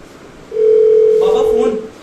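A steady electronic telephone tone sounds for about a second and a half in a home during a Hindi stage play, with a person speaking over its final part.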